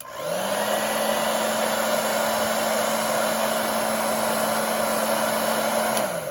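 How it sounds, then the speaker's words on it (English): A hairdryer set to hot blows steadily on the back of a warped trading card, giving a loud, even whir with a constant hum that runs close and alone, then cuts off near the end. "you're gonna end up using the hairdryer on the back of the card"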